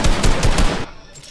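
Rapid bursts of gunfire in a PC shooter video game ring out loudly for most of the moment, several quick shots in succession, then fade into quieter game ambience.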